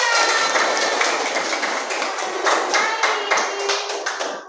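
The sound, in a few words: audience applause for a student group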